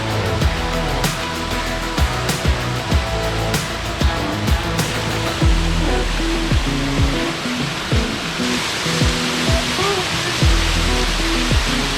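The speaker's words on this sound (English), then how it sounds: "This is a pretty cool waterfall." South River Falls, an 83-foot waterfall in a park, pours as a constant broadband rush, while brief knocks and clicks sound close by in the foreground over the water.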